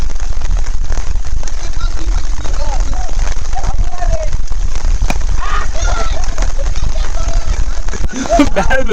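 Heavy monsoon rain patters densely on a surface during a village cricket match in Konkan, a loud continuous crackling hiss, with faint voices and calls scattered underneath.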